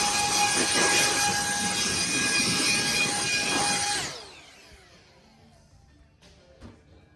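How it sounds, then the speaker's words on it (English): Air blower blowing water off a freshly rinsed car engine, a loud steady high-pitched whine and rush of air that cuts off after about four seconds, leaving near silence with faint clatter. "We're going to do a little, just a little blow off here."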